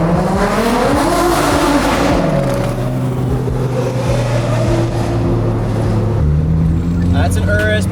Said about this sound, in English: That's an Urus Performante